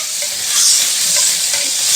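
Bacon cooking in a pan, a loud, dense hiss and sputter that swells slightly midway and holds steady, close up with no voices.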